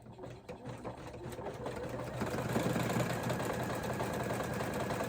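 An embroidery machine stitches a double top stitch around a wallet in the hoop, a steady mechanical hum and rapid needle chatter building slightly, close but fairly quiet.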